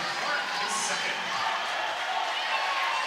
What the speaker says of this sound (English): You can hear the crowd come to their feet and applaud the effort that they saw from their Neenah Rockets tonight